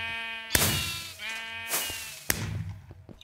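Sheep bleat in a video game, several loud wavering bleats repeating a few times close up with no talk over them.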